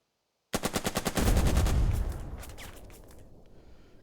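Tank gunfire in the World War II strategy game Burden of Command, the Cisterna assault: a rapid burst of about eight sharp shots, then a heavy booming blast that rolls away into a long fading echo, loud and alone.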